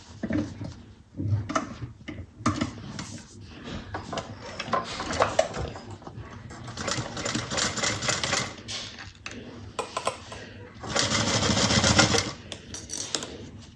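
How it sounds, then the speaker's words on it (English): A sewing machine runs in bursts as a seam is stitched down on a bucket bag, with clattering mechanical stitching that starts and stops, near and fairly loud. "Okay, so we're gonna sew this down."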